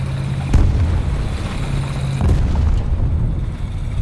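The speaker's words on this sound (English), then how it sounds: "So I'm going to dump a smoke round, or smoke grenade. I'm going to dump 2 actually." A tank in War Thunder fires two smoke grenades: two dull, muffled booms about two seconds apart over a steady low rumble of engine and wind.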